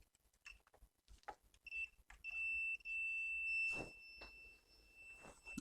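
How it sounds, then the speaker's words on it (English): A multimeter on continuity test emits a high, steady electronic tone in a few sustained beeps, broken by a gap, amid quiet clicks and handling sounds. "we'll hear that when the beep changes"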